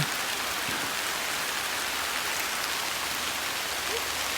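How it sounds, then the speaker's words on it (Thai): Steady, even rain falls through a forest during a red ant egg gathering trip, a dense unbroken hiss that stays at one level throughout with no voices. "ฝนตกแห้งอยู่นะคะ"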